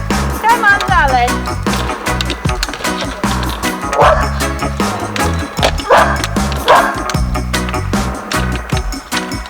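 Ruby the dog lets out several high, sharp yips at a skateboarding curb spot, mixed with loud skateboard wheel rumble, clacks and thumps.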